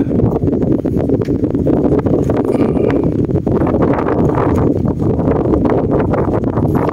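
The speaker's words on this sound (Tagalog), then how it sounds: "Lakas ng hangin" Strong wind buffets the microphone outdoors in Pampanga, Philippines, during a fishing outing, in a continuous loud rumble, with scattered rustles and light knocks throughout.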